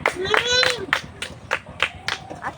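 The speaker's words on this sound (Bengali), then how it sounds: "এই তো, হাততালি হাততালি।" Children clap their hands together at a quiz game, several sharp, close claps in a loose rhythm, with a voice talking over the first moments.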